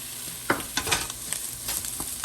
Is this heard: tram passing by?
no